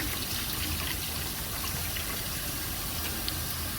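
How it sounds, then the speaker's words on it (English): Water runs into a bowl during rinsing, making a continuous close trickle and splash that stays even throughout, with no voices. "So I'll fill up the bowl"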